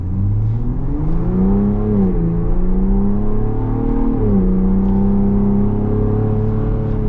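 A 2025 Ford Bronco Raptor engine idles then revs and accelerates with a deep, steady exhaust drone in normal exhaust mode, pitch rising and falling twice, loud and close with no talking.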